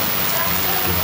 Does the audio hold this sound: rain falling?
yes